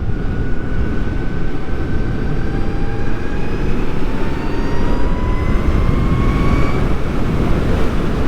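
An electric supermoto motorcycle accelerates hard in its custom mode, a loud steady rush of motor whine that rises smoothly in pitch and is layered over strong wind and road noise throughout.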